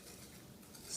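Glaze frosting whisked in a bowl for cupcakes, a steady soft scraping and swishing that rises slightly at the end, with no talking.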